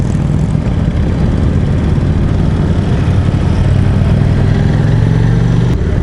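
Steady low engine roar of an Indian Vintage motorcycle with a 111 cubic inch engine accelerating on a test ride, a loud continuous rumble mixed with wind noise, close and without talk.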